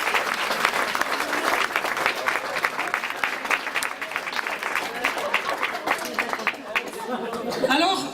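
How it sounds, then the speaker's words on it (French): An audience at a club's 30th anniversary celebration applauds warmly with sustained, dense clapping. Crowd chatter mixes in, and the applause thins toward the end. "On les applaudit encore."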